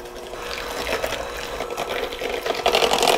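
An electric mixer on low speed whirs steadily, blending pumpkin pie filling with milk into a soft puree, a continuous close churning hum with a wet sloshing texture.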